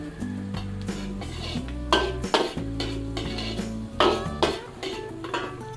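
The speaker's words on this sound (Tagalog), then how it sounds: "Sama natin sa gisa." Chorizo de Bilbao sautéing in a pan during Filipino home cooking, with steady sizzling and frying under repeated clinks and scrapes of a utensil stirring against the pan, close and busy throughout.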